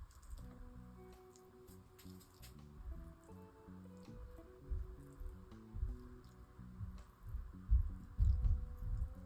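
Thick acrylic paint falling from a swinging pendulum in wet drips and splats, irregular and close, growing louder and more frequent toward the end over a faint background hum.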